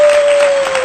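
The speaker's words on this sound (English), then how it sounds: "Let's give her a round of applause." Applause for a Paris house tour, a brief burst of dense, loud clapping from a group with a faint steady tone running beneath it.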